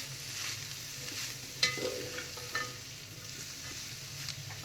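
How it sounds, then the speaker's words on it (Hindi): A spoon stirs spices through chicken spring roll filling in a pan, soft scraping and light sizzling with a couple of sharper clinks, close and fairly quiet. "इसको मिक्स अच्छी तरह करें।"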